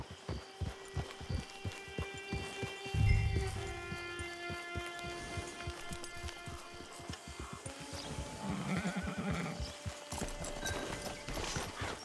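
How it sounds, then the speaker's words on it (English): Horse hooves clip-clop in Red Dead Online, a steady close rhythm of hoof strikes with a brief snort or whinny partway, over quiet game ambience and music. "It's your horse."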